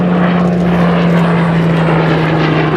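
Hawker Hurricane PZ865, the last of some 14,000 Hurricanes built, running its propeller engine at an airshow at Dunsfold, a steady loud drone with a constant low tone and no break throughout.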